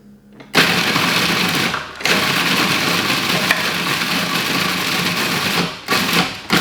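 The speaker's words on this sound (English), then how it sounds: "And now I'm going to blitz that up." A food processor blitzes crackers and basil into a crumb in a home kitchen, a loud steady whirring grind in two long bursts with a brief stop between them, then a quick final pulse.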